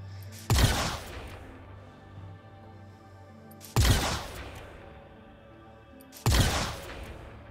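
Three single gunshots spaced a few seconds apart from a weapon test-fired in a video game, each a loud sharp crack with a short ringing tail, a low hum between.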